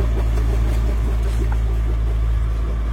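A sailboat's diesel engine hums continuously, steady and loud with a deep low drone, mixed with wind and water wash, no voices.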